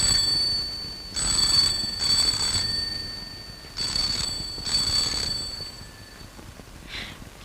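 Old telephone bell ringing in an older Tamil film scene, four evenly spaced bright rings with a fainter fifth at the end over a steady background hiss.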